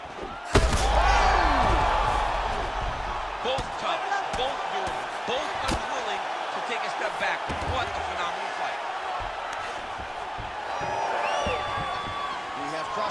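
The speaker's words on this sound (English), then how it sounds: "Nice takedown lands." A fighter's takedown slam in the EA Sports UFC 5 video game on PS5 lands as a sharp heavy thud near the start, followed by ongoing game crowd noise and commentary talk throughout.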